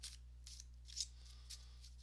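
Quick papery riffles of a deck of cards being shuffled, several soft bursts in close succession over a low steady hum.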